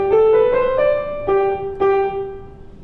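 Bach's Minuet in G is played on piano with heavy arm staccato, each note separately struck and slightly weighty, ringing clearly with short decays, heard alone and up close.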